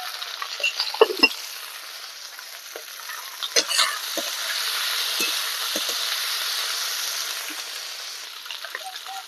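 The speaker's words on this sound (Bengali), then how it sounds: "হলুদ আর লবণটা দিয়ে আলু আর উচ্ছেটাকে আরেকটু ভেজে নেব" Potato and bitter gourd fry in a pan with turmeric and salt, a loud hissing sizzle under repeated spatula scrapes and taps, close by, swelling in the middle and easing toward the end, with no speech.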